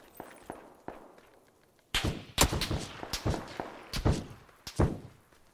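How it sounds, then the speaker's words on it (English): Enemy gunshots ring out in a video game, a few faint distant pops at first, then a series of loud, sharp close shots and impacts in irregular succession. "What side are they shooting from?"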